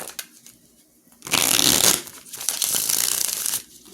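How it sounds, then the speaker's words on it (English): Tarot cards being shuffled in two brisk riffling bursts, crisp and close, with quiet pauses before and between. "Alright, one more shuffle."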